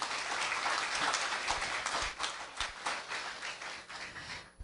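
Audience applause at a formal academic awards ceremony for an ensemble performance, a dense steady wash of many hands clapping that holds loud, then thins toward the end.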